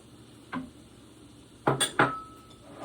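Carrots go into a pan for a chicken stir fry, marked by a few quiet metallic clinks and clatters of a utensil against cookware, with a louder double clank near the end over soft kitchen background.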